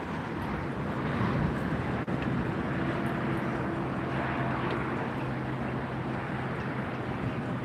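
A British Airways Airbus A380 passes at LAX airport, a loud, steady broadband jet roar holding throughout with low engine tones, up close and without talk.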